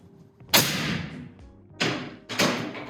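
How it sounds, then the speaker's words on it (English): A small methanol vapor rocket boosted with extra oxygen launches in three sharp whooshing bursts, each a sudden loud rush that fades over about a second, heard close with no talking. "You can hear that this rocket takes off with more force."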